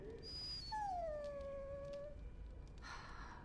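In the fantasy video game Dragon Age: Origins, a dog lets out a single drawn-out whimpering whine that slides downward and fades, heard quietly and close with no talking.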